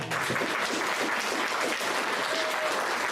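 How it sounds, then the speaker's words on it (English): School audience gives a round of applause for the staff and teachers, steady dense clapping filling the whole stretch, moderately loud with a faint murmur of voices. "I really want to give also a round of applause"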